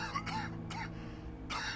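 A man gives a few harsh throat-clearing coughs, quiet and close, spaced out over a faint background hum.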